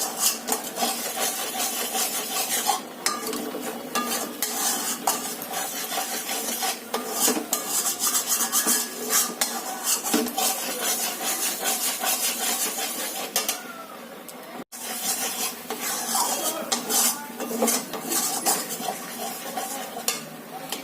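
Milk for rabri being stirred continuously in a pan, with flour sprinkled in, producing a steady close rasping scrape of the spatula against the pan bottom, loud and unbroken apart from one brief pause, with no talk.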